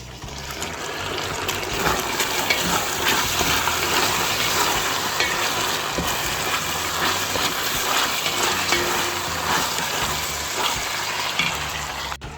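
Running water trickles and splashes steadily as taro leaves (laupele) are washed for a Samoan Sunday meal, a continuous close wash with no talk.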